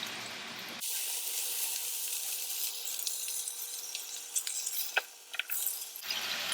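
Chicken sizzles steadily in a hot pan just after being flipped, a continuous bright frying hiss with small crackles and a few utensil clicks, close and fairly loud.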